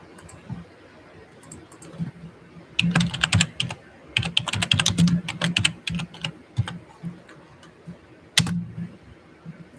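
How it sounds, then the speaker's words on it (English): Someone types on a computer keyboard, entering a name into a live video setup form. Bursts of crisp key clicks come in uneven runs, close and fairly loud, with short pauses between them. "So I'm typing in my name now"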